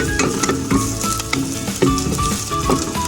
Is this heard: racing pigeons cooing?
no